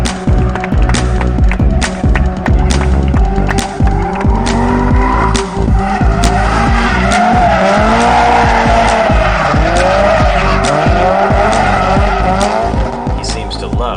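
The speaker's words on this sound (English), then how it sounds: "Itsumi showed two ways to initiate the drift, by either flicking the car or performing a feint motion." A drift car is flicked into a slide and its tires squeal continuously under a loud, revving engine, with the screech rising and falling as the car swings sideways close to barriers.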